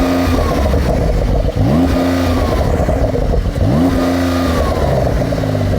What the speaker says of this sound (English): So go on, rev it up.